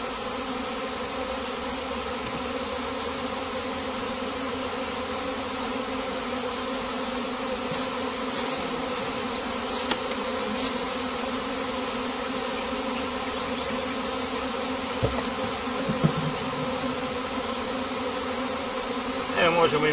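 Honeybees swarm up and stir at the hive entrance, giving a steady, close, dense buzzing drone that holds evenly throughout, with a few faint knocks and small handling noises.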